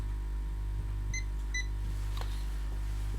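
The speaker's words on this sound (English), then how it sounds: "So my multimeter is in the beep range right now." A multimeter set to continuity mode gives two short, faint, high electronic beeps close together while probing coils on a Lenovo Yoga 260 laptop board, over a steady low hum.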